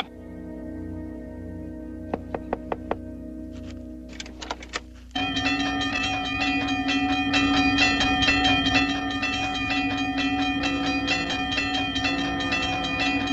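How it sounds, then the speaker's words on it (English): Approaching train in a 1965 film scene: a few sharp clicks, then a sudden loud sustained rumble with steady tonal whine and rhythmic clatter that stays strong and near throughout. "Hey there, you better wake up! That's a train coming!"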